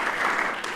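A brief burst of audience applause at a late-night comedy show, a short, dense patter of clapping with no talk over it.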